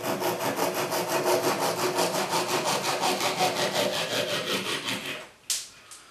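Handsaw cutting off a wooden wedge from a Hock shoulder plane kit, steady rhythmic back-and-forth rasping strokes for about five seconds, close and loud, ending with a couple of sharp knocks.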